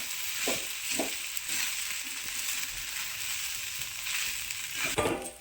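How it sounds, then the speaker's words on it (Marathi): Sabudana khichdi with a chilli-peanut mix and salt being stirred in a hot pan, a steady sizzle broken by a few soft scraping strokes of the spoon, close and moderately loud with no talk. "त्यानंतर छान मिक्स करून घ्यायचं सगळं एकत्र करून घ्यायचं"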